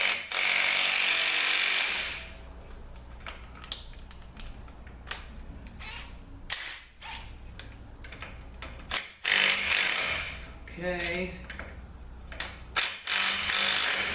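Bolt being broken loose with a socket during teardown of a 4L60E automatic transmission with no third gear: loud ratcheting and mechanical clattering, bursts of tool noise and metallic clicks up close, with no talking.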